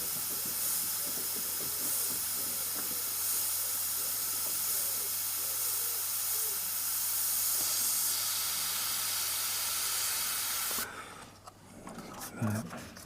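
An airbrush sprays paint in steady short trigger bursts while working tight areas up close, a continuous close hiss filling most of the clip before cutting off near the end, with faint background noise after.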